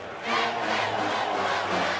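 An Oregon football crowd roars at the Rose Bowl before a College Football Playoff semifinal against Florida State, a broad sustained wall of cheering that swells up quickly and holds steady at a distance.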